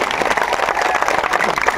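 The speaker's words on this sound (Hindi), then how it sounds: "प्रधान बरुआ जी के लिए जोर से ताली बजाओ सभी लोग" Political rally crowd in Lakhimpur applauding a BJP candidate, a brief dense burst of clapping and crowd noise filling the space.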